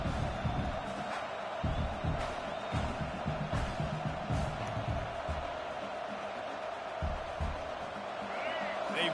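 Stadium crowd roaring in a football video game as the home side pins the opponent deep in its own end: a dense, continuous wall of cheering and rumbling noise under a commentator's voice.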